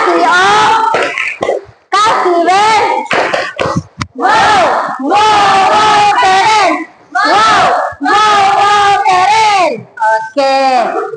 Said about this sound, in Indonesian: kita kasih tepuk wow, kasih W, kasih O, kasih W, wow, wow, wow